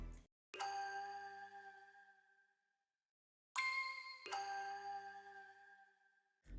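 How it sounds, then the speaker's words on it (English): A Bell Rain one-shot from the Whiteout kit plays a simple pattern of bright, ringing bell chimes, struck in two spaced phrases that each decay into silence, with no voices. "So then the next thing I added was this Bell Rain one shot from the Whiteout kit, and I just did this simple pattern."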